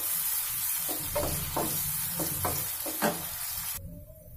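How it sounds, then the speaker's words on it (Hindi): Chopped onions fry in about 50 ml of hot oil in a kadhai, a close, even sizzle punctuated by several distinct stirring scrapes before the sound cuts off. "इसमें हम ये प्याज डाल देंगे। प्याज को हम हल्का सा लाइट ब्राउन करेंगे।"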